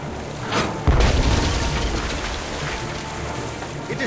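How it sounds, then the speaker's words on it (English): A ship's cannon fires in the 2009 pirate adventure game Tales of Monkey Island, a deep booming blast that rolls into a long rumbling wash of noise, loud and close with no voices. "Then empty the cannons on him, me hearties!"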